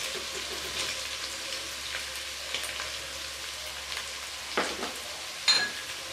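Chicken pieces fry in a pan with a soft, steady crackle, broken by a few sharp clinks of a utensil toward the end.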